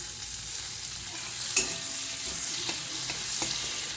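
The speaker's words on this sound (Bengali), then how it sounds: "এবার এতে আমি রসুন কুচি দিয়ে দিচ্ছি।" Chopped garlic, about seven or eight cloves, sizzles steadily in a tablespoon of melted butter in a pan, a constant close hiss with a few light scrapes of stirring.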